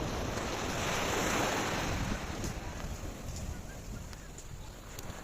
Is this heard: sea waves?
yes